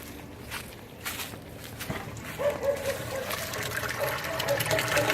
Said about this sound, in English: See the water's going out?